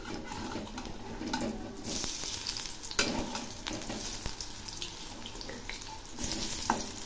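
Dopati flower fritters coated in oats frying in hot oil in a pan, a steady crackling sizzle with occasional stirring and splashy bursts, close and moderately quiet, no talking.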